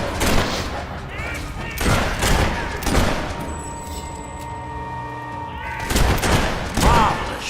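Gunshots in the video game Fable III come as clustered, crackling volleys at the start and again near the end, loud and close, with a quieter middle stretch carrying tonal game sounds and voices in places.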